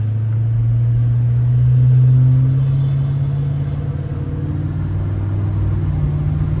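A GM L5P Duramax diesel pickup truck pulls away, its deep engine drone and road rumble steady and loud throughout, swelling briefly as it gets moving.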